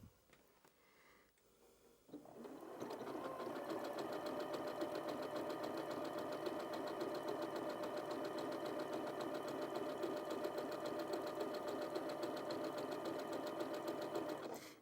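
A sewing machine stitches steadily along the edge of a fabric appliqué petal, running continuously and evenly after a short quiet start with a brief handling noise.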